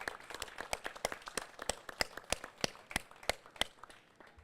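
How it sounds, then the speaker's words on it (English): Scattered applause from a small crowd at an outdoor street-art mural unveiling, sharp individual claps ringing out in an uneven rhythm for several seconds. "who deserves a huge round of applause."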